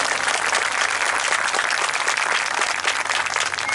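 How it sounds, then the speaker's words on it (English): Dense, continuous clapping from a crowd at a high school marching band show, broad and even throughout with no voices standing out. "Oh yeah, you can clap, that's all right."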